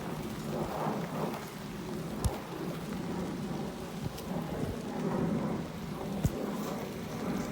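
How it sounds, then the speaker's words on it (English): Steady rain pours down in a constant hiss, with a couple of sharp, brief knocks of drops or debris hitting something nearby. "it's starting to rain now"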